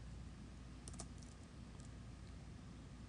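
Someone types a command on a computer keyboard to compile a Java program, giving a short cluster of faint, quick key taps over a steady background hum.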